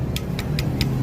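A motorcycle engine with a broken connecting rod knocks in a steady, evenly spaced metallic tick, about five sharp raps per second over a constant low idle hum, loud and close.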